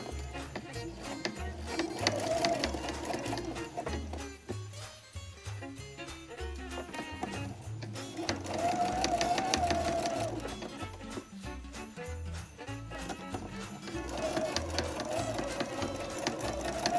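A domestic sewing machine stitches a quilted Christmas stocking in three runs of rapid, whirring stitches, with brief slower pauses between them, close and steady.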